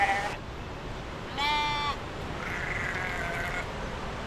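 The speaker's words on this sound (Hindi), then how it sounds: "छोटे छोटे मेमने भी आए हैं।" Lambs bleat a few times near Sethan village by Manali, short high wavering cries, one clearer call in the middle, over a soft outdoor background hiss.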